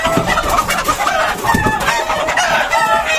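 Chickens on a poultry farm cluck and squawk continuously in a dense, close chorus, with occasional louder calls standing out and no talking.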